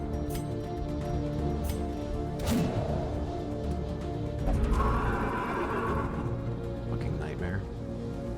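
A horse neighs in the dungeon-crawler video game Darkest Dungeon, giving a few sharp whinnies mixed with game effects and a thud, all over a constant layered background of game music and sound.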